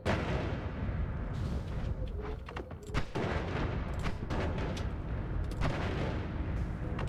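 Explosions detonate in the video game Noita, a dense run of booming blasts and crackling bursts following one another almost without pause, loud and continuous, with no talking.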